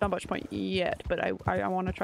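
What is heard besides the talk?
No everyday noises stand out.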